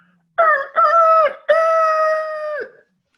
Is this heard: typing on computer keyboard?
no